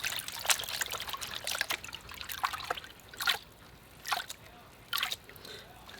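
Water and sand sloshing and trickling in a gold pan, with soft swirling water and several sharp splashy bursts, fairly close and quiet.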